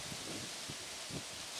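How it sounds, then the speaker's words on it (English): Steady broadband wind roar from gusts up to 30 miles an hour buffeting the microphone, with low gusty thumps rising and falling, no voices. "It's super windy."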